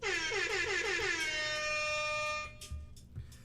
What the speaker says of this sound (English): Oh, is that your air horn?